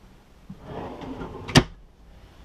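Nightstand drawer in a 2015 Airstream Flying Cloud 25FB travel trailer sliding open with a soft rolling rumble, then closing with one sharp wooden knock, up close in a quiet interior.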